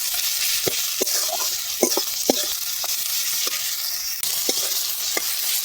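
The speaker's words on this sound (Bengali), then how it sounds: "এবার আদা রসুনটা ভালো করে কষিয়ে নেব" Ginger garlic paste frying with onion and tomato for a fish curry with brinjal and potato, a constant close sizzle broken by repeated light spatula taps and scrapes against the pan.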